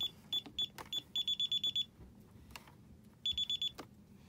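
Electronic keypad beeps from a home security alarm system arming indoors, sounding in quick bursts of short evenly spaced high tones with pauses between groups, steady and fairly close.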